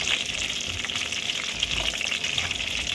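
Something fries in oil ahead of the mustard seeds for a mango-ginger pickle, a dense, hissing sizzle that runs continuously and fairly loud, with no talking.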